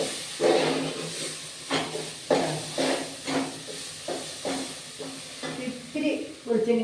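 Rice flakes (aval) roasting in a pan for jaggery and coconut aviloos balls, a steady close dry hiss and sizzle broken by rhythmic scraping stirs about once a second.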